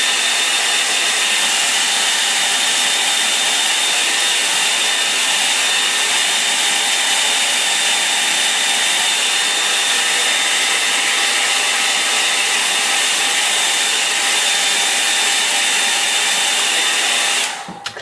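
A hair dryer runs steadily at close range while drying a watercolour painting, a continuous loud blowing whir with a thin whine, cutting off right at the very end.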